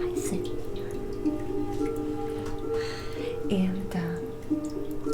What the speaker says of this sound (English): you can have running water. Maybe there's a nice little brook, and we can hear the babbling brook of the water